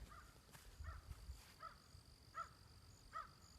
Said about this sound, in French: On entend l'oiseau au loin.